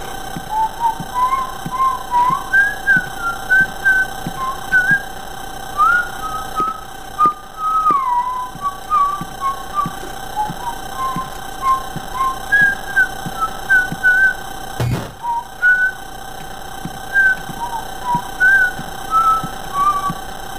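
A person whistles a melodic tune for about twenty seconds, clear and fairly close, with steady ticking in the background and a brief thump partway through.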